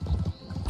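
Horse hooves clip-clopping in Red Dead Redemption 2, a quick run of close, steady thuds over about a second with no talk.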